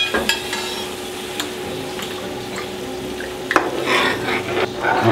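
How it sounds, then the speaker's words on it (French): Orange sauce for duck à l'orange stirred in a pan, a soft, steady simmering hiss with occasional clinks and scrapes of the utensil, close and moderately loud. "On remue."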